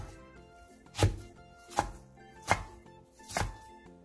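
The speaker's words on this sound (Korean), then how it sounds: "상추를 길게 펼쳐 먹기 좋게 4에서 5cm 정도 길이로 잘라주세요." A knife chops lettuce into 4–5 cm lengths on a cutting board, four distinct thuds spaced under a second apart, close and clear without speech.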